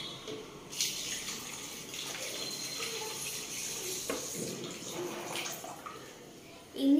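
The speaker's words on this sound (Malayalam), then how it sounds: "പാല് ഒഴിക്കാം." Milk poured into a blender jar for a Sharjah shake, a steady gushing pour close by lasting several seconds, with a brief knock at the end.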